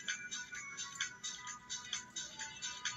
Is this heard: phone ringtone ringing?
yes